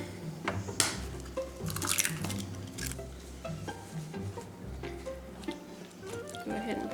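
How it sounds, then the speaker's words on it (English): Two eggs crack into a bowl of cottage cheese mixture, with a few sharp taps and wet squishy drips close by, quiet, against a low background hum. "We're cracking in 2 eggs."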